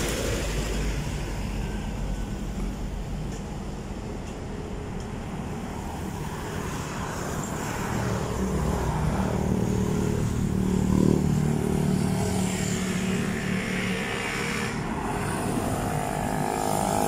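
Fast cars and other vehicles roaring past on a busy roadway near SM City Sto. Tomas, Batangas, a steady loud traffic wash with passing swells, no talk.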